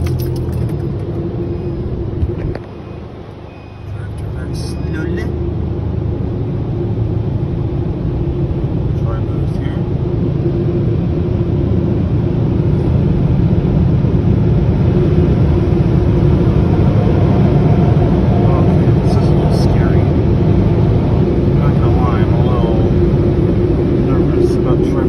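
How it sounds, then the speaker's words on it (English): Car wash dryer blowers at a Citgo drive-through in Carol Stream, Illinois roar loudly and steadily, a broad powerful rush that dips briefly near the start then holds constant as the car passes through. "They're firing up the dryer."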